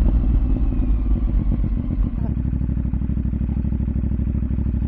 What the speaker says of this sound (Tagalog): May mga motor na.